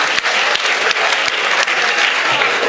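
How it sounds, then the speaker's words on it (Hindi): Loud, dense applause from a large crowd at a mushaira, welcoming poet Khurshid Haider to the stage, sustained and continuous with a few sharp nearby claps standing out. "जोरदार तालियों का इस्तकबाल कीजिए जनाब खुर्शीद हैदर साहब"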